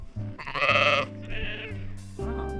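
Brown sheep bleating up close: a loud wavering bleat followed by a couple of shorter, softer calls, with low rumbling background noise and no talk.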